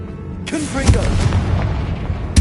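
A Confringo explosive spell blast from the Hogwarts Legacy video game: a sudden loud burst with a booming low rumble that sustains for about two seconds, ending in a second sharp impact.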